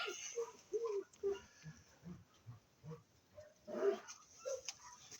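A dog gives a series of short, hoarse barks and yelps at irregular intervals, fairly close, with a rougher burst near the middle.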